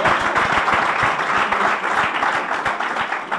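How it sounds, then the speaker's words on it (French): A church congregation applauds, with steady, dense clapping from many hands filling the room for a few seconds. "Acclamons très fort le Seigneur."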